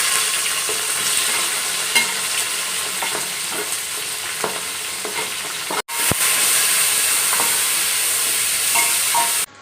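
Onions fry and sizzle in hot oil in a pan for mutton biryani, a steady close hiss with scraping stirs of a spoon and one brief break partway through.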